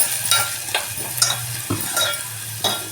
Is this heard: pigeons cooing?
no